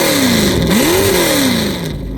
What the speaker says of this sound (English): these black headers and megaphone exhaust make some of the best noises I've ever heard.